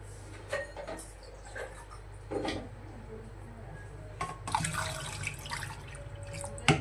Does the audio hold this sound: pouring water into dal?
yes